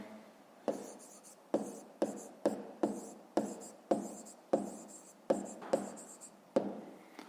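An answer being written by hand for a fifth-grade maths exercise, with a regular series of about a dozen short pen-on-paper strokes heard close and quiet, with nothing else over them.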